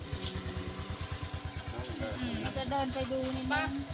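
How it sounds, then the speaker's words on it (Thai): A motorcycle engine runs steadily nearby with a fast, even low thumping throughout, and a voice talks over the second half. "ไม่มีมีแต่มอเตอร์ไซค์มอเตอร์ไซค์มอเตอร์ไซค์"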